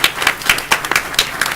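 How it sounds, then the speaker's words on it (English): Steady clapping from a crowd at a school board meeting for the swearing-in of the mayor, filling the whole moment without a break. "let's give a round of applause for our mayor"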